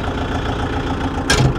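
A Kubota MU 5502 tractor engine idles, heard from inside its closed AC cabin as a muffled, steady low rumble, with a brief louder rustle near the end.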